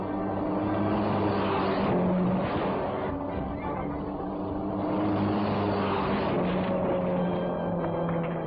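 A 1940 stunt car engine roars steadily as it speeds at about 80 miles an hour toward flaming barriers, a loud sustained drone that swells and eases.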